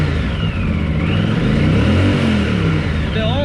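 Close-up revving of a Honda CX500TC Turbo motorcycle engine, a loud steady mid-pitched drone that swells and rises in pitch near the end, with no talking.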